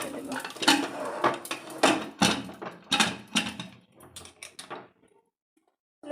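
A pressure cooker lid being handled and set on while puffed rice roasts inside, a run of close metallic clanks and scrapes that stops abruptly and leaves near silence.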